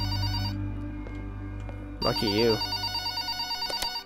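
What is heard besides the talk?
telephone ringing in video game Lust for Dankness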